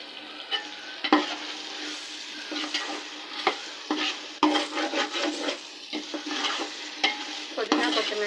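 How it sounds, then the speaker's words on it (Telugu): Mint and coriander leaves fry in biryani masala with tomatoes and oil for an Andhra-style country chicken biryani, a steady close sizzle broken by repeated scraping stirs of a spatula against the pan. "పుదీనా కొత్తిమీర వేసుకొని బాగా అవి కూడా వేగేంత వరకు వేపుకోవాలి."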